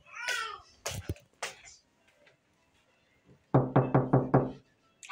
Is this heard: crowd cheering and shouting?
no